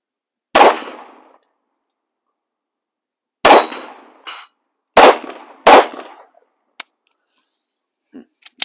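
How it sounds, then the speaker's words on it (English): A Yugo M-57 pistol is fired at a shooting range. Four sharp, loud shots ring out at irregular intervals, each with a short decay, followed by a few faint metallic clicks. "To shoot it accurately, it's easy to squeeze the trigger and shoot it."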